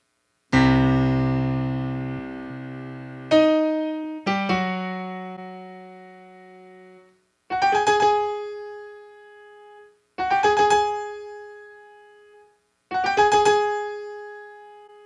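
An angry tango melody line of sharp, accented notes: a held low phrase, then a series of loud plucked or struck stabs spaced evenly, each decaying quickly, with no voices.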